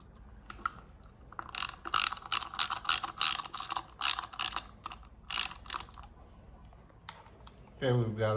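A ratchet tightens the clutch cover bolts on a KTM 65 dirt bike, bursts of quick clicking strokes repeated close up over several seconds, with a voice speaking briefly at the end.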